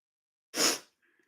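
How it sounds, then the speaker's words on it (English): A single sharp human sneeze, close and loud, bursting out of silence and fading quickly, followed by faint breathy traces. "I can sneeze up to 7 times"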